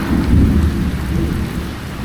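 Heavy rain pours steadily on a road trip between Rajgangpur and Puri, with deep low rumbling thunder rolling underneath throughout, loud and close with no voices.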